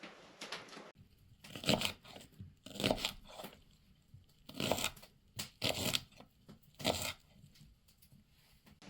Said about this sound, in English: I'm just going to cut that up real small.